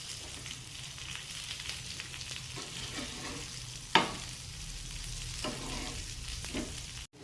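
Murrel fish fries on a pan with a steady close sizzle, broken near the middle by one sharp scrape and clatter as the fish is flipped, and a few softer knocks later.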